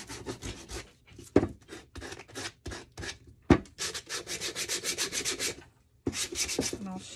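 Sanding the corners and edges of a painted wooden candlestick: short rhythmic rubbing strokes, a few sharp taps, then a steadier run of quick back-and-forth scrubbing, close and fairly loud.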